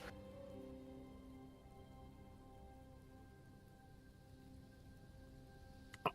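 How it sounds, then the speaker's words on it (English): Steady rain falls outdoors, heard indoors as a continuous soft hiss and patter lasting throughout, with a faint clatter near the end. "It just started raining and I had to go and open doors."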